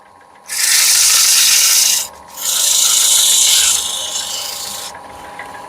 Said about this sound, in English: I'll finish sanding